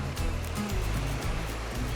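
Surf breaking on an ocean beach at Burleigh Heads during fishing, a constant wash of rushing water with low rumbling pulses as waves roll in, fairly close and steady, with no talking.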